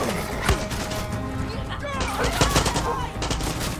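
Sharp gunshots crack out in the video game Far Cry 6, several loud reports spaced over a few seconds amid other game sounds, with a voice speaking underneath.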